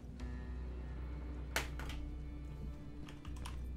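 Quiet computer keyboard clicks and taps during a Terminator: Resistance gaming session, scattered presses with one sharper burst of keystrokes near the middle, over a steady low hum and no talk.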